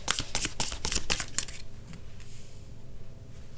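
A deck of tarot cards is shuffled nearby. It makes a quick series of crisp, papery flicks and slaps over about a second and a half, then fades into near quiet with no talking.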